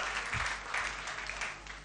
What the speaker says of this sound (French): Applaudissez très fort pour les jeunes Congolais qui sortent de l'ordinaire.